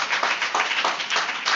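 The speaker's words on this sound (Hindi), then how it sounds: "आइए जोरदार ताली हम बजाएं परमेश्वर के लिए, और जोरदार ताली" Church congregation clapping loudly together at an evening service, a dense, continuous wash of many hands with rhythmic surges, close and sustained throughout.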